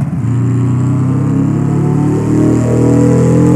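A car engine in a driving video game revs loudly and continuously, a close, steady mechanical drone that rises and wavers in pitch over several seconds with no talking.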